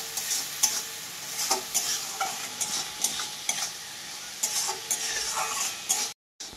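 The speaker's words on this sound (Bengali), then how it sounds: "এবার আমি ভাজবো কিছুক্ষণ।" Turmeric, chili and salt fry in a pan for fish-fritter curry, giving a steady soft sizzle punctuated by regular scraping stirs of a spatula, close and fairly quiet, before a brief cut to silence at the end.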